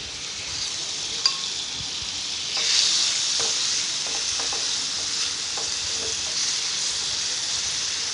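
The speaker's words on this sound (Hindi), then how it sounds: "उसमें 2 चम्मच मैंने डाले हैं कुकिंग ऑयल के। अब ये जो मैरिनेट के लिए हमें रखा था चिकन, वो मैं इसमें ऐड कर दूँगी।" Marinated chicken sizzling in a couple of spoons of hot cooking oil, a steady close hiss with a few soft stirring scrapes and taps running underneath.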